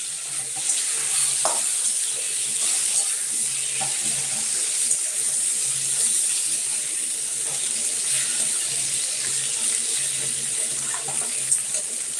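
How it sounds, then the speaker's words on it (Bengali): Vegetables frying in a pan for a Bengali egg curry with vegetables, giving a steady, even sizzling hiss with a few faint scrapes and knocks of a spatula throughout. "চলো বন্ধুরা এখানটা ভাজি এটা তলায় লেগে যাচ্ছে"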